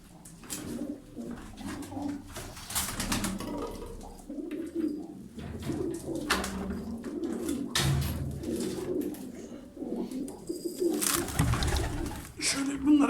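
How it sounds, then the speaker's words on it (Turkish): Pet pigeons in their loft, some thirty birds, coo steadily in low, throaty, overlapping calls close by, with scattered rustles and knocks in the enclosure. "Burada 32 tane kuş var."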